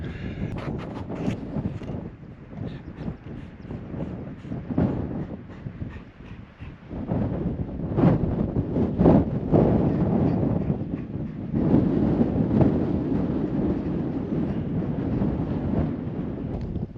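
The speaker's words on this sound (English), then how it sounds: "It's a bit windy and a bit cold" Strong wind buffets the microphone on a hilltop above a castle on the Isle of Kerrera, in continuous low roaring gusts, swelling louder partway through and staying heavy to the end.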